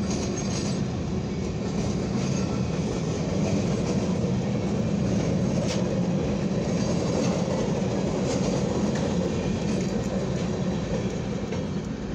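A long westbound CSX mixed freight train rumbles past nearby at Deshler, Ohio, a constant heavy roar with faint metallic clatter and squeal from the wheels, steady throughout.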